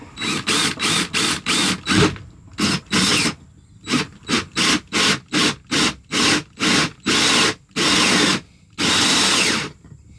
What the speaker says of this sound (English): This time I use a piece of wood. I'm backside, and be careful not to drill into your hand.